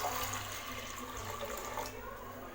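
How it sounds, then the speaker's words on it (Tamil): Water pours steadily into a pressure cooker holding soaked chickpeas, a continuous splashing fill heard close up and alone for a couple of seconds. "2 கப் அளவுக்கு தண்ணி சேர்த்திக்கங்க."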